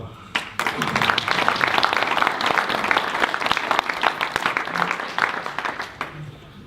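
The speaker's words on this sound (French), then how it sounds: "Je pense qu'ils méritent vos applaudissements" An audience applauds prize winners at a town hall event, a burst of many hands clapping that swells quickly, stays dense for several seconds, then thins and fades out.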